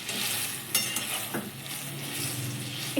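Pabda fish curry with mustard, poppy seed and cashew is stirred in a pan after a little water goes in, giving a soft, even simmering sizzle with a few brief scraping strokes, fairly quiet and close.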